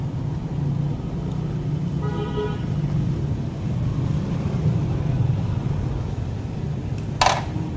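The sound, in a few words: Lotus pressure washer running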